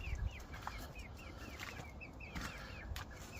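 Chickens roaming a yard give repeated soft clucking calls and a few brief wing-flap rustles, faint and close over a low outdoor background.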